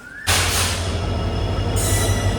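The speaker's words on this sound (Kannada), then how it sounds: "ನಾವಿನ್ನೂ ಸಹ ಟ್ರೈನಲ್ಲೇ ಇದ್ದೇವೆ" A passenger train runs on its rails, and the steady loud rumble sets in abruptly, carrying a faint wheel squeal throughout.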